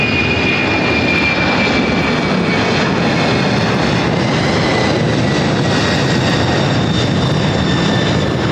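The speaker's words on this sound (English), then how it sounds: "767 now rolling down, 25 left." A heavy Boeing 767 jet rolls for takeoff on runway 25 left at Los Angeles airport, its engines a loud, continuous roar with a steady whine running through the whole stretch.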